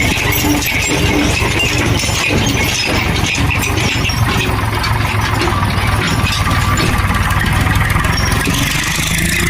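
A tractor engine idles during sugarcane loading, a loud, close, continuous rumble with a steady low throb and faint rattling throughout.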